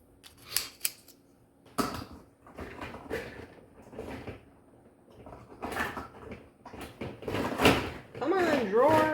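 A drawer is pushed shut with a couple of knocks and a sliding thump at a workbench where a necklace is being finished, while a person talks over it with other small handling clatter.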